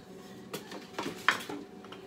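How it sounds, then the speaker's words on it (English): Zucchini and egg whites are mixed in a small bowl, with a few irregular clinks and scrapes of utensil against the bowl over a quiet background. "In this bowl, we're going to put our zucchini and our egg whites."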